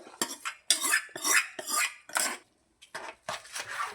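Rapid scraping and clinking of a utensil stirring oil into lemon pickle in a metal pot, in uneven bursts with a brief pause, close by.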